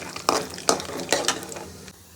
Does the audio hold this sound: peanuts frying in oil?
yes